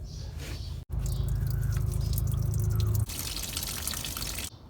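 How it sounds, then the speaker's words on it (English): Engine coolant draining from a loosened drain valve during a Chevrolet Silverado 5.3 water pump replacement, a close, steady trickling spatter that stops abruptly and briefly, then carries on. "once you loosen it up, you'll start to see coolant coming down."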